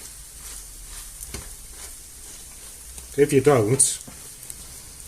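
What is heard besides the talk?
cheese and garlic omelette sizzling in a pan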